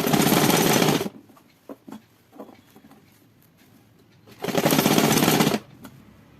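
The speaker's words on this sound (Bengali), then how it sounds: "আমি হাতার নিচের অংশটাও সেলাই করে নিচ্ছি, তাহলে হাতাটা সুন্দরভাবে বসবে।" A sewing machine stitches the underside of a sleeve in two loud, steady whirring bursts, with quiet handling clicks and rustles of fabric in the pause between them.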